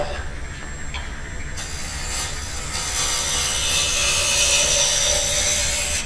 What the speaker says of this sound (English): you see a nice sharp chisel, we're getting really nice just feather shavings there